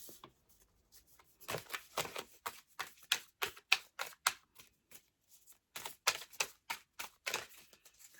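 Tarot cards being shuffled and drawn: quick papery riffles and flicking snaps in irregular bursts, very close and crisp against a quiet background, with no talking.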